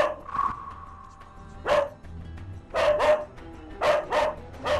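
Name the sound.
aggressive dog barking fiercely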